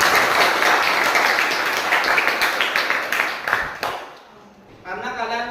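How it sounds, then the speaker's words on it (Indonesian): Students in a classroom clap together in a dense, loud burst of applause that thins and fades out, followed by a brief moment of voices. "Oke, kasih tepuk tangan untuk kalian semua dulu ya."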